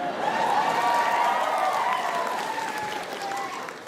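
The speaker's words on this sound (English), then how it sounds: "You may whoop and cheer" An audience at a comedy show applauds and cheers in a dense, steady burst of clapping with whoops, close and loud throughout, easing off slightly at the end.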